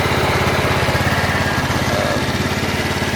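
A scooter engine idles steadily nearby with a fast, even putter, slightly high idle, loud and continuous without speech, while the rear wheel spins.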